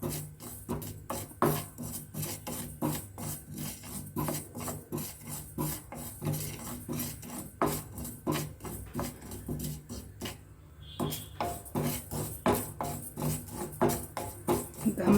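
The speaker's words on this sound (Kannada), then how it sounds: "ಉದ್ದಿನ ಬೇಳೆನ ಕಲ್ಲರ್ ಚೇಂಜ್ ಆಗೋವರೆಗೂ ಚೆನ್ನಾಗಿ ಹುರ್ಕೋಬೇಕು ಗೋಲ್ಡನ್ ಬ್ರೌನ್ ಬರಬೇಕು" Urad dal being roasted in a pan, stirred steadily with repeated scraping strokes in a regular rhythm, close and clear with no talk over it.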